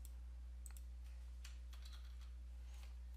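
Faint, sparse keyboard clicks tap out a few keystrokes over a low electrical hum, quiet and close.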